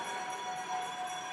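A bell rings steadily for the final lap of a track cycling distance race at a championship velodrome, heard at a moderate distance over a constant wash of crowd and arena noise.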